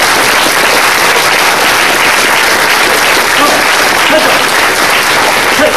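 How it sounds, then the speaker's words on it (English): A conference audience at ICFP 2014 gives the organising team a loud, sustained round of applause, a dense continuous roar of many hands clapping from start to finish with some voices mixed in. "I want to give a big round of applause to the organising team."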